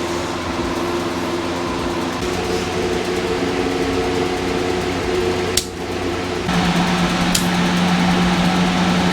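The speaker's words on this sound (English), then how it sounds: "sorry guys about the noise. I had to turn the fans on" Electric fans run steadily in a hot workshop, a constant whirring drone with sustained hum tones that step up louder partway through, with a couple of brief clicks and no voices.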